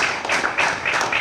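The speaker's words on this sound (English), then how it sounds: "Round of applause" Applause from an audience at a ribbon cutting for a school activity center, a short burst of clapping heard close and alone.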